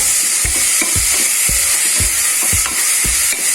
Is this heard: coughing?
no